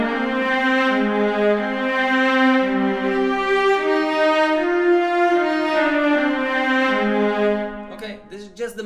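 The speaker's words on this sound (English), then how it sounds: "This is the melody from Transformers." A sustained, lonely orchestral-style melody line from the Transformers soundtrack plays alone, slow held notes with rich harmonics gliding from one pitch to the next before cutting off at the end.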